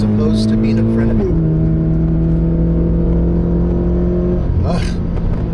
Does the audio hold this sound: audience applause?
no